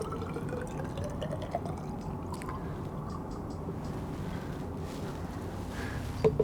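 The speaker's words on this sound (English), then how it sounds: "I'll fill this grad cylinder to 100 mLs of water" Water poured steadily into a glass graduated cylinder on a lab bench, filling toward 100 mL: a continuous close liquid rush and gurgle with no pauses.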